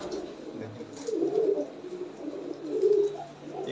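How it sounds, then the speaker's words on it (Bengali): Fancy pigeons, boot lotan and kalmi lotan breeds kept for sale, cooing close by in a loft, with repeated soft throaty coos over light background noise. "এগুলো সবই কিন্তু খেলা পায়রা"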